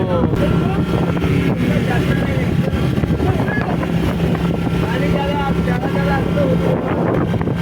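A motorboat carries passengers across the water off an island near Thiruvananthapuram, Kerala. A steady, loud engine drone runs throughout under wind buffeting on the microphone, with faint voices mixed in.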